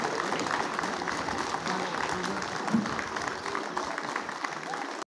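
Audience clapping at a school stationery distribution ceremony honoring local officials, a sustained, moderately distant round of applause filling the whole stretch with no talking.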